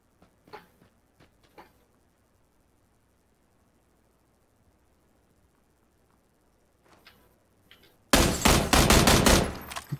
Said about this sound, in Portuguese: Deram uns tiros aqui.